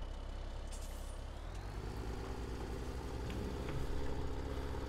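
A truck engine in Farming Simulator 17 rumbles and builds as it pulls away, with an air-brake hiss near the start and a steady whine above.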